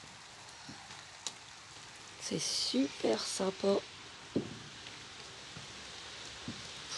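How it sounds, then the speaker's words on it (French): Steady patter of rain falling outside, with a person speaking briefly over it. "Il pleut, comme c'était prévu."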